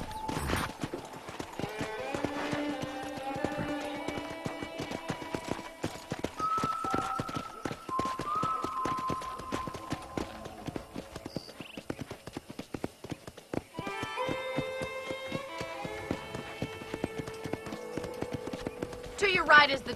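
Horse hooves clip-clop steadily in Red Dead Redemption as a rider moves around a ranch, a continuous rhythmic patter under game music and a narrator's talk.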